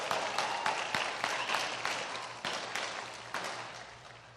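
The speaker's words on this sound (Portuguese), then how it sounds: "Gente, uma salva de palmas para o meu irmão" Crowd applause at a candidacy launch event, a few seconds of sustained clapping with sharp individual claps standing out, gradually tapering off.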